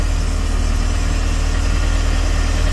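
A 2012 Larson LX850 boat engine idles steadily at about 1,000 RPM after nearly eight months in storage, giving a close, even, throbbing low rumble with no talk.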